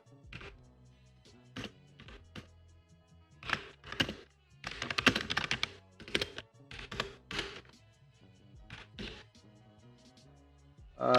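Keys clatter on a computer keyboard in irregular bursts of typing, with dense flurries of clicks around the middle and sparse taps between, close and clear with no talking.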